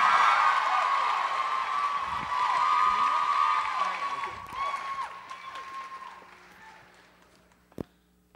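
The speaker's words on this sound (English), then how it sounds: "Big round of applause." An audience applauds and cheers for the host of a Dancers Fighting Cancer show. The clapping is steady and full for several seconds, then thins out and fades, ending with one last sharp clap.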